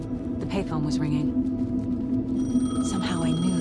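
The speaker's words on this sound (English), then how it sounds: "The payphone was ringing." A payphone rings in the video game Alan Wake 2, a steady electronic bell tone heard under spoken dialogue and game ambience.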